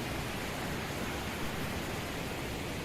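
River water flows steadily beside a forest art trail in Banff, Canada, a continuous, even rush with no breaks and no voices.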